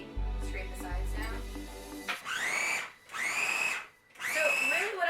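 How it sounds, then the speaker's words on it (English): A food processor blends cheese bread batter for gluten-free vegan Brazilian cheese bread: a low motor hum at first, then three loud whirring pulses separated by short pauses, close by. "I'm gonna blend this up real quick in here"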